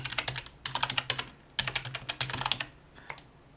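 Rapid bursts of keystrokes on a computer keyboard as a password is typed into a PHP login system's registration form, close and clear, in two quick flurries separated by a short pause, with a few final taps, no talking.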